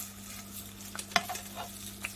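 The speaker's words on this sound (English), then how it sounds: "frying them, you can see they've gone white" Quiet sizzling of chicken pieces in a pan under light stirring, with a couple of soft scrapes and clicks.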